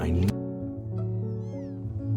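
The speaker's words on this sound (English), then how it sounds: "Yes, I understand about the cat." A cat meows in the video game Before Your Eyes, a short, rising mew heard over steady, sustained background music tones.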